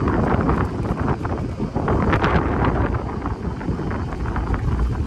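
Wind buffets the microphone during a golf cart ride at an RV weekend outing, a steady loud rumbling roar with gusty swells throughout and no talking.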